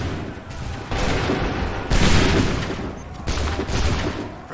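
Musket volleys in Assassin's Creed 3, several loud, broad crackling bursts of massed gunfire in quick succession, each a rolling rush of shots rather than a single bang, with no clear talking.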